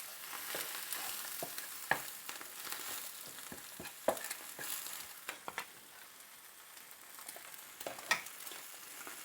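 Greens fry in butter in a pan, a soft steady sizzle broken by scraping stirs and occasional sharp clinks of a utensil, close and quiet, with no voices.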